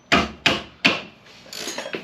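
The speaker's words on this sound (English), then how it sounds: "rubber mallet" Three firm, evenly spaced rubber mallet taps ring out close by while racing front brake rotors go onto an FD3S Mazda RX-7, followed by softer, quicker knocks and scraping.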